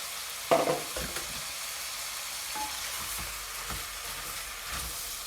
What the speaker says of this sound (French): Là, on mélange bien tout ça.